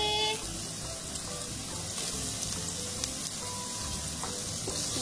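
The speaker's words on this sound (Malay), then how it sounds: "Masukkan bahan tumis, bawang merah dan bawang putih. Masukkan ikan bilis." Shallots, garlic and anchovies fry in oil inside a Dessini multi rice cooker, giving a steady, close sizzle with occasional crackles and light stirring scrapes, no voices.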